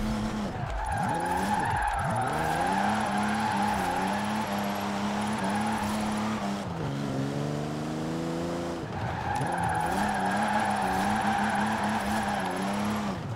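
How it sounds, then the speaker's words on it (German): Toyota 2000GT six-cylinder engine in the Forza Horizon 4 racing game, a sustained loud engine drone with rising and falling revs and tire squeal throughout. "Klangtechnisch ist der Motor aber auch echt sexy. Also der klingt echt schön, muss ich sagen"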